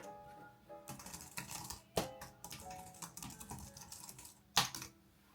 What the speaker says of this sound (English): Now let me give you a feel of how the keys might sound like.